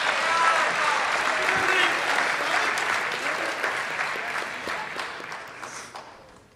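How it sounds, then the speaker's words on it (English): Sustained applause from a large school-awards audience honoring a boys tennis team, dense and steady throughout before gradually thinning and fading toward the end. "Let's give another round of applause to our"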